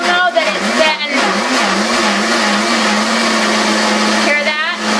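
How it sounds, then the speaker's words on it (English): A kitchen blender churning sprouted wheat and warm water, a loud continuous whirring motor with a wavering pitch that shifts as the mixture breaks down, steady throughout at close range. "I want you to notice while it's blending, there's going to be a change in the sound of the blender"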